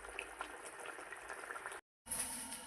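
Fish curry simmers in a pan, a quiet, steady bubbling and boiling texture with a brief cut of silence before it resumes, faint and close with no talking.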